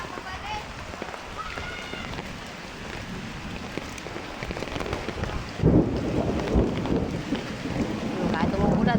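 Rain pours steadily outdoors during a thunderstorm, a dense continuous hiss with a louder surge of rumble near the end, while voices talk faintly over it.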